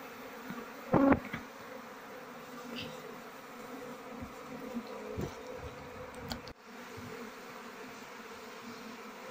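A queenless honeybee colony hums steadily around a honey-filled comb. The buzzing is continuous and moderately close, with a few brief knocks and handling noises near the start.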